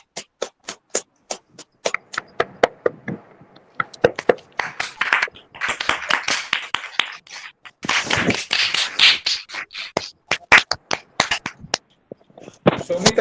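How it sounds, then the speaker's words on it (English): An audience claps at a fundraising event, starting with scattered separate claps that build into a dense burst of applause, then thin out again to a few claps, with a voice heard briefly. "Can you all clap for Shomita?"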